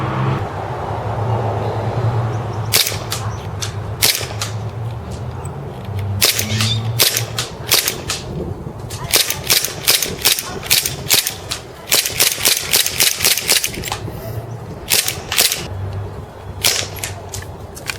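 Rapid sharp cracks from a WE Silver Sword Cutlass M9 BB pistol being fired, many close, loud shots in quick irregular bursts over a low steady hum.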